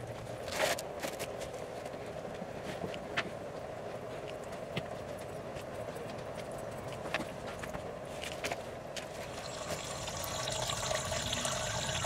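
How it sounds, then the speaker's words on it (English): Transmission fluid drips and trickles from a 2005–2010 V8 Jeep Grand Cherokee during a transmission service, a steady liquid patter with scattered sharper drops and a faint background hiss, no talking. "just let it go and let it drip as much as possible."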